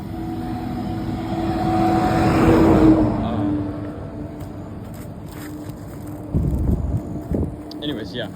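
Cars passing on a busy city street in New Orleans, a broad whooshing swell that builds and fades over a few seconds amid steady traffic hum, with people talking nearby.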